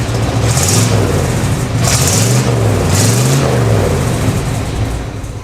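A 40-year-old tow truck's engine revs hard through freshly installed Thrush mufflers with a small exhaust leak, rising in three loud, close throaty swells over a steady idle rumble.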